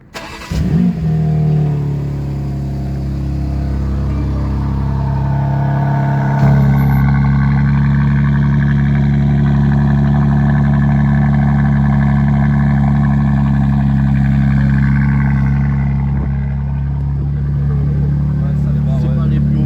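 A BMW M3 Competition engine cranks and fires up with a sharp rev, then settles into a loud, steady, deep idle heard close by, with people talking in the background.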